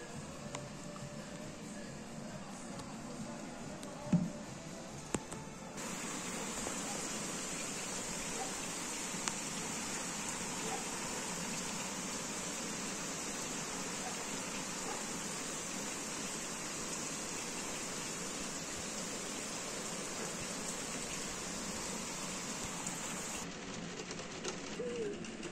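Heavy nighttime downpour over Kunów, a steady broadband hiss of rain on surfaces and flooded road that holds constant for nearly the whole stretch, with a few faint knocks early on.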